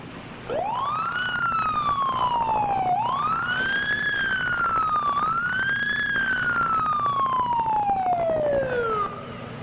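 A police car siren wails loudly and close through three rising and falling sweeps during a nighttime riot in Los Angeles in 1992, with a vehicle engine rumbling underneath.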